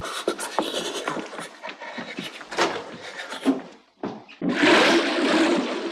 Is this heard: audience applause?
no